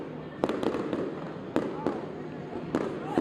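Fireworks burst overhead at an Oklahoma City opening night celebration, several sharp loud booms spaced a second or so apart with crackling trails, while a person talks amid crowd noise.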